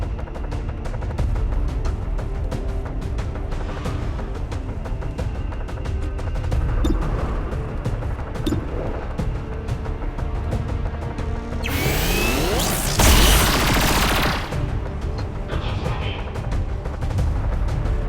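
Cannon fire and explosions in the video game XCOM 2, heavy booming blasts over a constant rumbling battle din, with a loud sweeping burst near the end.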